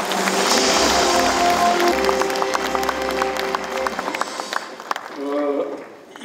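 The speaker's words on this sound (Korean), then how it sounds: "큰 박수로 모시겠습니다." Audience applause at a ceremony, a broad wash of clapping that rises and then thins out, with a crowd murmur and voices over it.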